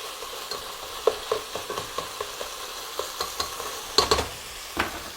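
Hamburger meat browns, sizzling softly in a pan while a utensil scrapes and stirs in irregular taps, close and fairly quiet.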